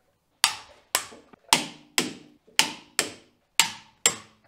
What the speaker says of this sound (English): So now we're going to torque these bolts to spec.